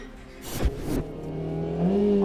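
A faulty car engine struggling as it runs, with a rough rising whir and a couple of sharp thumps early on, then a steadier strained drone that climbs slightly in pitch.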